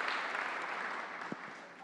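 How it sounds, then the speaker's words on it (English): A faint, distant wash of audience applause at a Friday Forum event, steady and continuous through a brief stretch with one louder knock near the end. "let's give her a round of applause."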